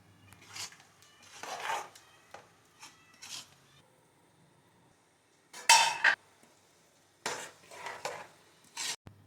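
Vermicelli being stirred together with jaggery, banana, ground cardamom and grated coconut in a pot, heard as several short bursts of scraping and clinking, with quiet pauses between strokes.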